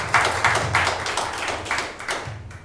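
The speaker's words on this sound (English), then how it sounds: "I just want to give a round of applause" Short burst of clapping from a small group at a live-streamed metaverse browser event, loose and uneven claps at close range with a low hum underneath, no talk.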